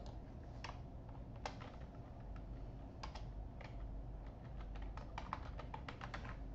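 Keys tapped on a computer keyboard while writing a VB 2010 program, scattered clicks in uneven bursts that grow busier toward the end, over a steady low room hum, with no speech.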